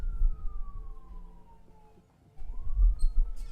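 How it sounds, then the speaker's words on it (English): Emergency sirens outside in real life wail faintly from a distance, one tone sliding slowly downward, then a pause and a rising wail returning under low rumbling background noise. "I hear fucking sirens. They're in real life."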